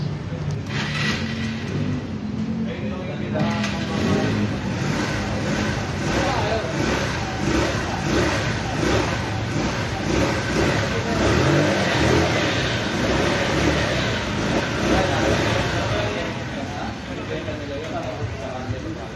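A motorcycle engine starts and revs after its spark plug cap and ignition coil are reconnected, a steady mid-pitched running drone with surging revs throughout, close and loud, with voices talking over it.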